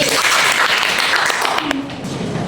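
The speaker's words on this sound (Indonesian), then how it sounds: "kembali tepuk tangan untuk Mbak Talita dan Mbak Desi" Schoolchildren clap together in a sixth-grade classroom lesson, a dense, fairly loud burst that thins out near the end as a voice begins.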